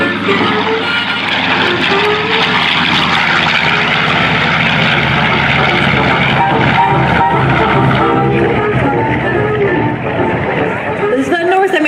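B-25 Mitchell twin-engine bomber with radial engines flying past at an air show, a loud sustained propeller drone with crowd chatter underneath.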